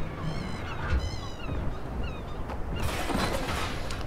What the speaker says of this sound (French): on entend les bruits des mouettes, c'est assez drôle ça